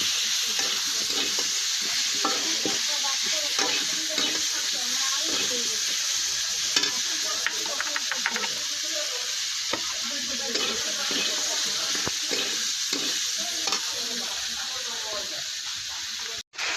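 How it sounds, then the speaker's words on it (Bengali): Spices with chili powder frying and being stirred in a pan, a steady close sizzle and hiss throughout with occasional scraping strokes, running nearly without pause. "লঙ্কার গুঁড়া দিয়ে দিচ্ছি বন্ধুরা, নাড়াতে ভালো মতো"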